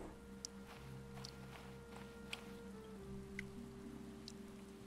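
Rain in the Stranded Deep survival game, scattered soft drops and light patter over a low steady hum, faint and continuous with a few distinct ticks.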